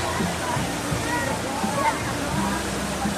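Balagbag Falls in Infanta, Quezon pours in a dense, steady roar of rushing, splashing water, with excited voices talking over it.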